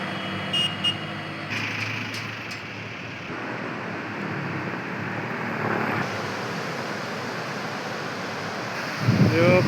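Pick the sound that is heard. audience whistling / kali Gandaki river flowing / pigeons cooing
kali Gandaki river flowing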